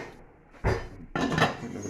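A lid is set on a stainless steel pan, giving two close metallic clatters about half a second apart, the second ringing on briefly.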